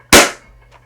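A toy foam blaster fires a single loud, abrupt pop at close range that quickly fades, with no talking over it.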